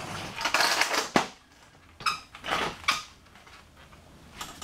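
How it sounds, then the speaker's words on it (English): A single-panel garage door rattles and clanks as it is pushed down by hand, with a few metallic bangs and scraping rumbles between quieter pauses. "So what I'm going to do is just kind of push the door down."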